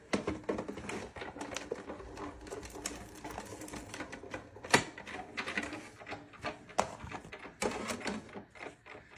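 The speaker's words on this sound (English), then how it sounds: "roll it through our Sizzix Big Shot Plus" A Sizzix Big Shot Plus die-cutting machine cranked through a die, giving a continuous busy run of clicking, ratcheting and mechanical rattle, close and fairly loud throughout.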